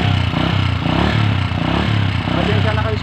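A motorcycle engine chugs unevenly and sputters as it nearly stalls, a steady low rumble that pulses throughout, with a voice talking over it.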